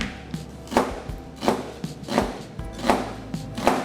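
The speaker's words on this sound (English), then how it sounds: "By the time I'm done chopping up this onion," A knife chops an onion on a cutting board for a shepherd's pie, with about six sharp, evenly spaced strikes at a steady unhurried rhythm, close and clear with no talk.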